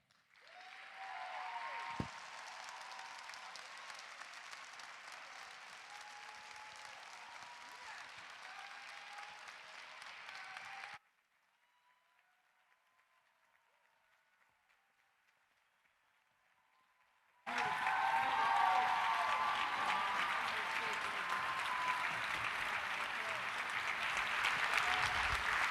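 Sustained applause from an audience for speakers at an evening conversation event, dense clapping that drops out briefly to near silence midway, then returns louder and fuller.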